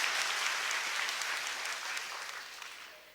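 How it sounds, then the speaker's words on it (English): Steady crowd applause at a lecture hall event in Phnom Penh, sustained and dense throughout, slowly tapering toward the end with no talk over it. "A round of applause."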